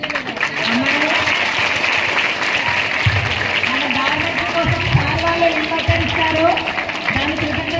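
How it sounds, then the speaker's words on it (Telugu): Sustained applause from a crowd of students at a school farewell day, filling the whole stretch as dense continuous clapping with lively crowd noise and some voices mixed in. "మనం చప్పట్లతో అభినందించాలి"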